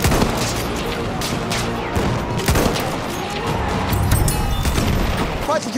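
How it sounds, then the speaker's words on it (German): Enemy machine gun fire in Battlefield 1 rattles as a dense, continuous fusillade of shots and booms, loud and close, with battlefield voices calling out amid the chaos. "Feindliches Maschinengewehr!"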